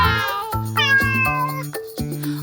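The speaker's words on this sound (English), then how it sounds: "It's a cat." A cat meows several times in quick succession, clear and close, each call rising and falling in pitch, with no talking.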